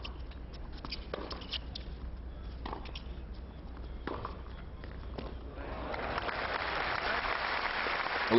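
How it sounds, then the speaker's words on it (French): A tennis crowd at the 2000 Toronto third-round match between Sampras and Sargsian breaks into applause that swells over the last few seconds, rising out of a muffled, band-limited broadcast hubbub. "Oui, il faut l'applaudir."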